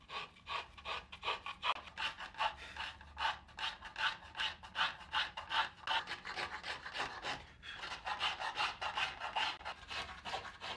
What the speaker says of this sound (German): selbst Geigenbaumeister, hobelt hier eine Geigendecke aus Fichtenholz.